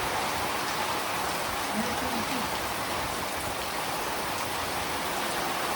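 Steady rain pours down, an even wash of hissing patter on surfaces throughout, with no pauses or voices.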